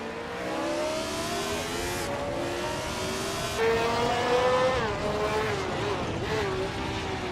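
Race cars in a continuous racing pack roar steadily throughout, their engine tones rising and shifting as they pass, loud and sustained with no pauses.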